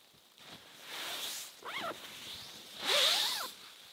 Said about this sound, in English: Hopefully you could hear the snow falling off and all the zip noise there.